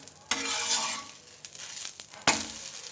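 A green moong dal dosa sizzles softly on a hot pan, with two sharp scraping clatters of a spatula as it is flipped, the frying hiss continuing steadily between them.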